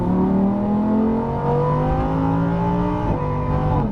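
A Lamborghini Huracan at full throttle on a track, its engine note climbing steadily through the gears with one brief dip at a shift. The loud, continuous roar sits close and fills the whole span.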